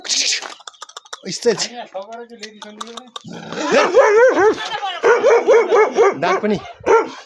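A dog yips and barks in quick, high-pitched bursts, close by, with whiny, whimpering tones between the barks.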